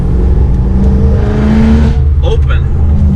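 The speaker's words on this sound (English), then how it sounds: "So now valves closed" A BMW M3 engine revs loud and close with its exhaust valves closed, a sustained muffled roar that drops away, followed by someone talking over the idle.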